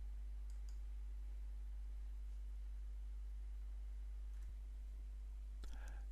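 Mouse clicks on a computer, a few isolated sharp clicks near the end over a quiet steady electrical hum.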